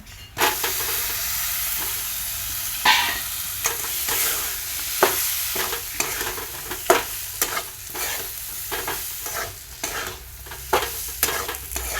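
Chopped, washed ridge gourd sautéing in a pan, a loud sizzle with frequent spatula scrapes and clanks recurring every second or so across the clip.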